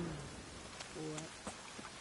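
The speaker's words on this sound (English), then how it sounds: "Witches have conjured rain." Rain in Witcher 3: Wild Hunt, a faint steady hiss of falling drops with a few soft taps and brief tones in the background.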